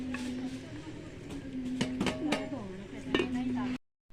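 Vegetables being chopped in a home kitchen, several sharp knife knocks on a board amid clinking utensils, with a steady hum and people talking underneath.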